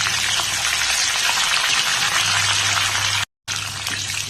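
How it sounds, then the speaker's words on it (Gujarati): Loud, steady sizzling of coriander leaves frying in hot oil for sev mamra, a dense crackling hiss that drops out briefly near the end. "આ રીતે થોડા ટુકડા કરી તેમાં ઉમેરી તેને તળી લઈશું"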